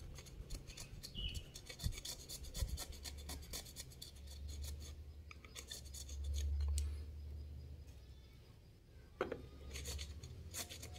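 An old pipe fitting joint being cut off, a steady harsh rasping and grinding that runs on continuously, with a few sharper scrapes and clicks close by.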